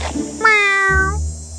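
A cat in an animated fairy tale gives a single clear, drawn-out meow, close and loud against a quiet background.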